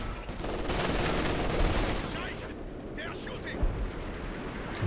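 An artillery barrage pounds a house in the strategy game Company of Heroes 2, a dense roll of booming impacts and crackling blasts layered under steady commentary.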